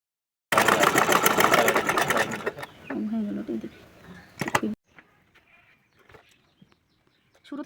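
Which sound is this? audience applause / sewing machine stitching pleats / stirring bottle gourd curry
sewing machine stitching pleats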